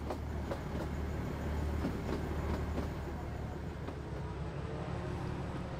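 Kangra Valley Railway narrow-gauge toy train rolling into Palampur station, a steady rumble of wheels on track with faint rhythmic clicks, continuous and fairly close.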